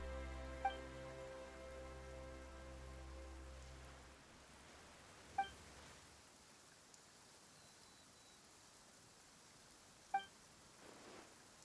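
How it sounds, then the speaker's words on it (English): Rain falling in the video game Genshin Impact, a faint steady hiss of rainfall that takes over after a low droning tone fades, with a few soft bright chime-like blips standing out above it. "Why is it raining all of a sudden?"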